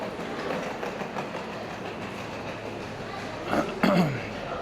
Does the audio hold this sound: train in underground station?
yes